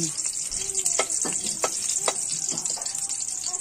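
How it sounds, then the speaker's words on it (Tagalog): Garlic and tomato sautéing in hot oil, a close sizzle broken by several sharp stirring scrapes and clatters of the utensil against the pan. "Okay, init na akong mantika para gisahan sa kong sari-sari."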